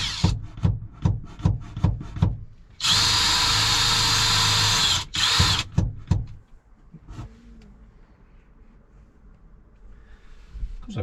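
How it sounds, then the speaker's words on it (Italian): Power drill boring a hole for a window, starting with a series of short sharp bursts, then a loud sustained whine for about two seconds, another brief run and a few stabs before falling to quiet room tone. "stiamo iniziando a bucare per la finestra"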